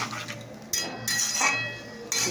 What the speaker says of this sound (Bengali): তো দেখো এবার আমি নেড়ে দেবো